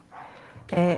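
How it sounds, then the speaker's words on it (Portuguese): A dog lets out one sharp, loud bark right at the end, after a faint murmur of background sound, in a home setting with barking dogs. "Desculpem pelos cachorros latindo sem parar"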